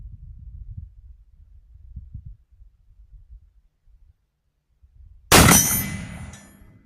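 A rifle bullet, fired from a Bridger Plains Rifle in cold weather, strikes a steel gong about 30 yards away. Quiet rustling gives way to one sharp, loud metallic clang that rings out and fades.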